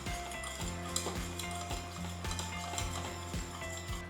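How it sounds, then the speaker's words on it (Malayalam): A flour-based white sauce for a vegetable bake is stirred steadily in a pan, a close, continuous scraping and soft clinking of utensil on metal with low bubbling underneath, no voices. "അതുകൊണ്ട് കണ്ടിന്യൂസ് ഇളക്കിക്കൊണ്ടിരിക്കുക."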